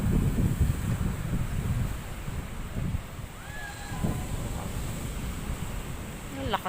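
Rough surf crashes and churns at the beach of La Playa de Valle resort, with heavy wind buffeting the microphone, making a constant, loud rushing roar.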